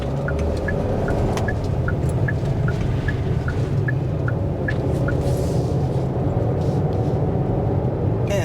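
Steady, smooth engine and road noise from a 2024 Hyundai Kona N Line cruising at half throttle, a constant low rumble inside the cabin with a faint repeating tick over it.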